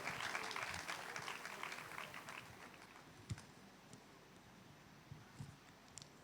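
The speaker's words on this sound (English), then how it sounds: "Clap properly if you're clapping." Conference audience applauding, a dense burst of clapping at the start that thins out to scattered claps over the next few seconds, with no talk.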